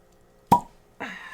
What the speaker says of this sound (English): Good cork pop.